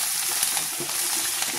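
Close, steady sizzling of garlic frying in hot oil, with faint stirring scrapes and no talking.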